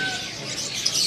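Loper canaries at a bird stall give brief, bright chirps against a busy background of shop noise.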